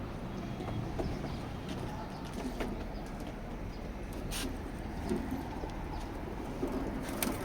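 Racing pigeon chicks in a loft, giving soft, low cooing under a steady rustling, scuffling background, with faint wing and foot sounds throughout and no speech.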